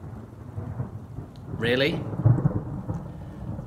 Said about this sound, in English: The rain arrived.